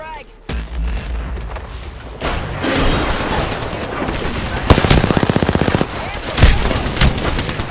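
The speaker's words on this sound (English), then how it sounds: "Throwing a frag." Video-game combat on PC: a frag grenade explosion and rattling gunfire, with sharp bursts of automatic fire, a fast rapid-fire run and heavy booms in loud layered bursts, with a voice faintly mixed in.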